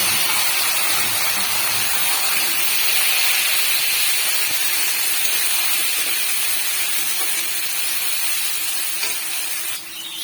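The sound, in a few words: onions frying in a pan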